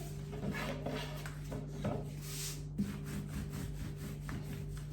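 Thin pastry dough for su böreği rolled out with a wooden rolling pin, giving steady close scraping and rubbing strokes in a repeating rhythm over a constant low hum, with no talk.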